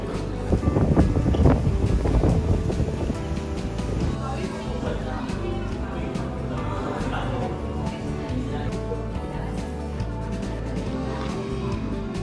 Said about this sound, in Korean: 바람이 엄청 많이 불어요.